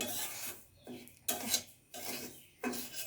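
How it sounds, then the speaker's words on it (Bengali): Semolina is stirred and fried in a hot wok for halwa, giving close, rhythmic scraping rasps in four distinct strokes with short pauses between them and no talking. "এখানে সুজিটা ঢেলে দিব আর এটা বড় নাড়াচাড়া করে ভেজে নিতে হবে"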